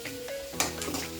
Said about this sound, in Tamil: இஞ்சும் போட்டு நல்லா ஃப்ரை ஆகிடுச்சு.